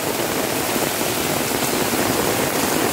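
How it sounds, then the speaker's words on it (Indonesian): Heavy rain driven by strong wind around a house, a loud, dense, unbroken hiss of pouring water close by with no voices. "Ya seperti ini ya suasana hujan di rumahku"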